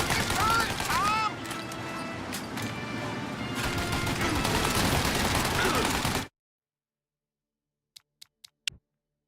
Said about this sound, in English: Shoot the turret, Tom!